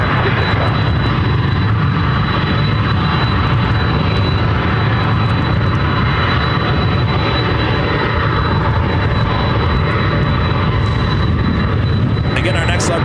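An aircraft lands on runway 26 left at Ontario International Airport in California, its steady, loud broadband roar filling the whole span without a break.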